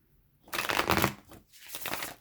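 A deck of tarot cards being shuffled up close, two quick riffling bursts separated by a short pause, with no talking.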